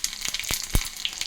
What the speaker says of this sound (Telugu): ఇదిగో జీలకర్ర, ఏడుశనగుళ్ళు, శనగపప్పు, కరివేపాకు, వెల్లుల్లిపాయలు అన్నీని ఇవి ఇట్లా వేసుకుంటే